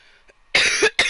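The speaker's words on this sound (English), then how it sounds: "I hate when I cough" A single cough bursts out loud and close in the middle, followed by a brief pause and a second shorter cough at the end, preceded by faint quiet noise.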